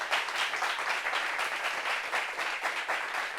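A studio audience claps for a guest arriving on a talk show, a steady continuous patter of many hands at moderate level with no pauses.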